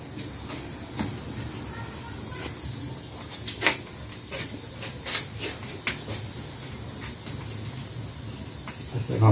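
A pressure cooker cooking free-range chicken lets out short, intermittent hisses and spurts of steam over a steady low background rumble.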